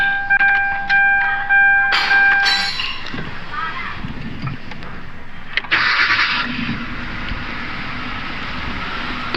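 A 2011 Kia Forte engine cranks and starts with a sharp burst of mechanical noise, settles into a steady idle, then gives a second rough surge; the car has a knocking 'kekh' engine fault, and the sound is close and fairly loud.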